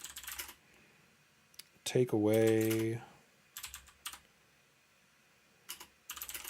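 Faint, quiet typing on a computer keyboard sounds in short bursts of soft clicks, with a brief spoken voice cutting in partway through.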